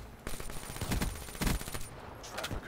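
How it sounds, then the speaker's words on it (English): Rapid pistol fire in the Black Ops 3 video game, a burst of close, loud shots in quick succession filling most of a short stretch, with no talking over it. "That freaking pistol though."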